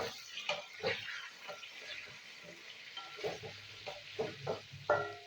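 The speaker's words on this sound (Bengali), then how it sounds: "তো পটলটা আমি ভেজে নিই।" Pointed gourd (potol) pieces fry with turmeric in a pan of hot oil, giving a steady close sizzle broken by scraping stirs and soft knocks from a spatula.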